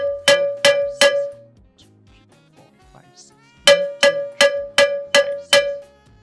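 A cowbell plays an African 6/8 Woro bembe rhythm, first three sharp metallic strikes, then a pause with faint background, then six evenly spaced ringing hits, loud and close with no talk.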